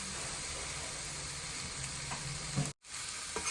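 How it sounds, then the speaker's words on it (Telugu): Carrot coconut fry tempering sizzles steadily in a pan as it is stirred, a dense close frying hiss with occasional scrapes, briefly cut to silence for a moment before resuming. "ఒక మంచిగా తిప్పేసుకుందాం"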